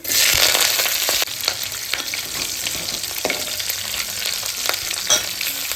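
Cumin, garlic, curry leaves and green chillies fry together in hot oil for methi pappu, giving a loud initial sizzle that settles into steady crackling with scattered pops and stirring scrapes.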